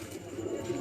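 Pigeons cooing in three or four cages at a pigeon-keeping competition, soft low murmuring coos repeating close by over a steady background hum.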